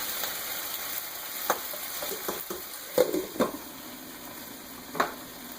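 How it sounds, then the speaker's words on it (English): Potatoes and onions with kielbasa fry in a lidded pan with a steady, close sizzle, broken by a few clinks and scrapes from the pan. "from the bottom it's browning or frying the potatoes"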